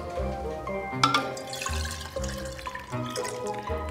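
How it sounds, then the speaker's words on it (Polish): Water pours and splashes into a laboratory flask, with uneven trickling and gurgling bursts heard up close at a moderate level, with no talking over it. "Nalewamy do kolby wody."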